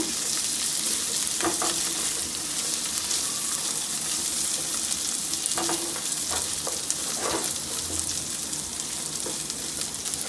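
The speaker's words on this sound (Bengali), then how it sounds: "দু মিনিটের মতো একটু নাড়াচাড়া করে নেব" Badshahi pulao ingredients being stirred in a pan over low gas, a loud continuous sizzle with periodic scraping strokes of a spoon, close up and with no talking.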